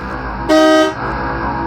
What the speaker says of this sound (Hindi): उस रात तो मैं गाड़ी के हॉर्न से जागा था